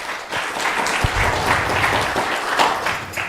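An audience claps at a Hare Krishna temple gathering, a steady wash of applause lasting a few seconds with a soft low thump near the start.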